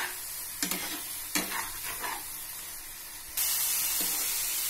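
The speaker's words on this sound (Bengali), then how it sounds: "দিয়ে আমি আবার একটু কষে নিচ্ছি।" Dal and spices frying in oil for a Bengali jackfruit curry, stirred in a pan with a steady sizzle, a few sharper scraping bursts, and the hiss growing louder near the end.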